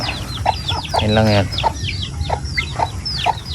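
Chickens cluck repeatedly nearby in short bursts, with one longer squawk, while a person speaks briefly in the background.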